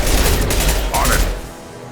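Rifle fire in Mass Effect Legendary Edition during a fight: a dense, loud cluster of rapid shots and impacts with a rising whine, mixed with voices speaking over the action before it trails off.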